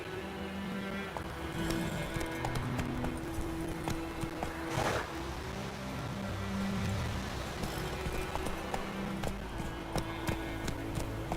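Hooves of the horse Roach in The Witcher 3, a rhythmic clip-clop of galloping over a continuous game ambience, steady and moderately close.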